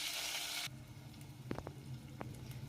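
Ground masala paste and cumin seeds hit hot oil in a pan with a loud burst of sizzling hiss that stops abruptly, leaving quiet crackles and a few light clicks.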